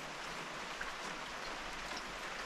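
Steady rain falls outside on a morning of an Appalachian Trail thru-hike, a continuous even hiss of drops on surfaces with no voices.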